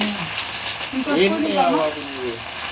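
Ginger-garlic paste frying in a pan while a pickle is being made, a soft steady sizzle running underneath while a voice briefly talks over it.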